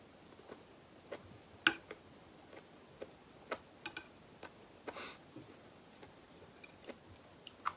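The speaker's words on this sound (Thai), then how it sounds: "เห็ดมันกรอบมันไอ้นี่ มันก็ต้องเคี้ยวดังธรรมดาแต่ไม่ใช่มาเคี้ยว จุบจับจุบจับจุบจับอ่ะ" Someone quietly chews crisp mushrooms at home, producing sparse, sharp crunchy clicks and bites at irregular intervals over a near-silent background.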